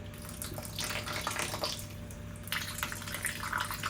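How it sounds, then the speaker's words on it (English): Leftover water drains slowly from household plumbing pipes into an old paint bucket, a close, uneven splashing and trickling with intermittent bursts over a steady low hum. "I've just got this old paint bucket here, so I'm just gonna slowly drain whatever's left."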